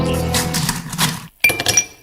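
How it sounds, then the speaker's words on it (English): Ice cubes drop into a glass with a bright run of clinks and knocks. A brief silent gap follows, then a second burst of sharp, close clinking. "That's ice cubes falling into a glass."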